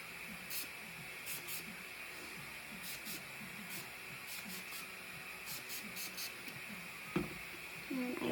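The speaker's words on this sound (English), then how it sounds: "So I'm going to take my heating spray." Heat protectant spray misted onto dry hair in a series of short, faint hissing bursts with brief pauses, quiet and close, with soft handling noises between sprays.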